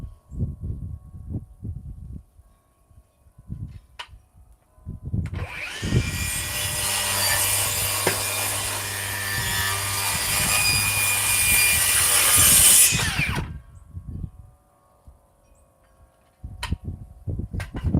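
A powered saw with a 6.5-inch blade cuts through wood, a loud, sustained, steady whine and rasp lasting about eight seconds, with quiet handling knocks before and after.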